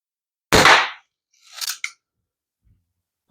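A Daisy Red Ryder Millennium BB gun fires once with a sharp, loud snap followed by a quieter, brief metallic rattle, then near silence with a faint thump at the end.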